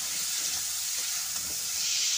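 Broccoli frying with spices and salt in a pan, a steady close hiss and sizzle throughout with no talking.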